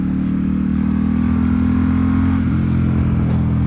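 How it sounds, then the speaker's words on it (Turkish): A custom Ducati XDiavel motorcycle's exhaust under load gives a loud, steady, close engine drone that holds for several seconds with a slight rise near the end. "Ama egzoz yüke binince bir gidiyor,"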